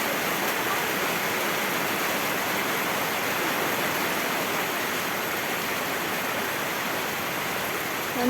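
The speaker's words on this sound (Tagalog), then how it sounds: "Yung lakas kasi talaga ng ulan." Steady, dense roar of heavy typhoon rain pouring without a break, loud and unchanging throughout.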